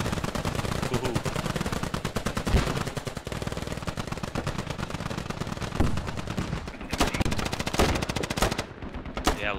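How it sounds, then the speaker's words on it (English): Sustained gunfire from both sides in the military shooter Squad, dense rapid machine-gun bursts rattling continuously for nearly ten seconds, loud and close, with a brief lull before more bursts resume. "Lots of shooting going on back and forth."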